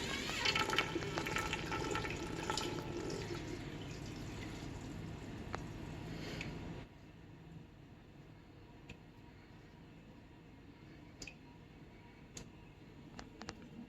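Pear juice pours and trickles from a steam juicer spout in a steady stream for several seconds, then stops, leaving quiet room tone with a few faint drips and clinks.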